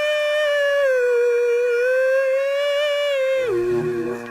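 A cartoon dog in the Harvey Birdman: Attorney at Law video game lets out one long, loud, sustained howl that wavers slightly in pitch, then drops and breaks into a lower, rougher tail near the end.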